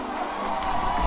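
A crowd at a homegrown Barbados show cheers and shouts in a short, lively burst that swells slightly toward the end.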